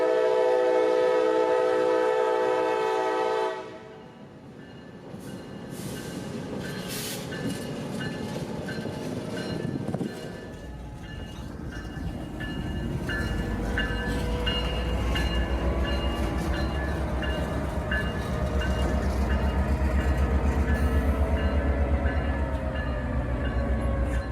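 A local freight train near Lakeland passes on an industrial spur track, opening with a loud, sustained horn blast, then a rumbling engine and clanking, rolling railcars that grow louder and steadier as it goes by up close.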